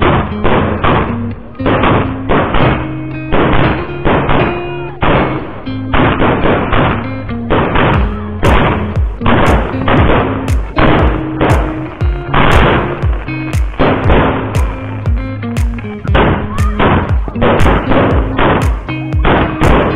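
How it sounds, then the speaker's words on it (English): Fireworks go off at night in a dense barrage of loud, sharp bangs and crackles for the whole stretch, with hardly a pause between bursts. "we capped the night off with some fireworks, and check these out."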